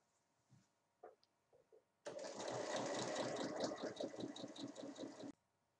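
Sewing machine topstitching the sides of a small bag, a steady mechanical whir of about three seconds that starts and stops abruptly, with quiet handling noises before it.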